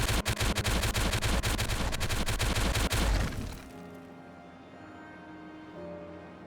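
In the colony-building game Timberborn, a quick volley of explosives detonates as a loud crackling burst of sharp blasts lasting about three seconds, then cuts off and leaves quiet ambient game sound.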